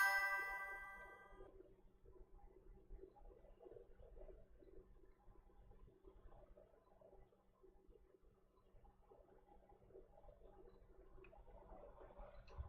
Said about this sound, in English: I keep hearing the chime going off.